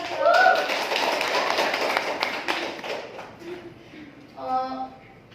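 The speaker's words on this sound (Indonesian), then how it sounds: "Beri tepuk tangan." Students in an Indonesian junior high school classroom clap in a short, uneven burst that tapers off, followed by voices talking.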